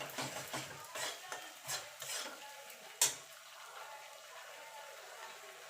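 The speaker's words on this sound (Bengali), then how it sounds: "এবার মশলাটাকে কষিয়ে নেব যতক্ষণ মশলার কাঁচা গন্ধটা চলে না যাচ্ছে আর তেল না ছেড়ে দিচ্ছে।" Spice paste is stirred and fried in oil in a pan for a vegetarian curry of drumsticks, potato and lentil dumplings. Several scraping spatula strokes with a soft sizzle come in the first three seconds, then a single sharp scrape, then quieter frying.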